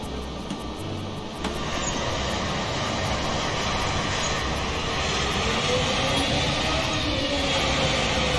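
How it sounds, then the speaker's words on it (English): Airbus A320 (FlyByWire A320NX) engines with thrust reversers deployed in Microsoft Flight Simulator, a steady loud broadband roar and rumble that swells slightly after the first second and holds constant. "I bet I have my reverser still on"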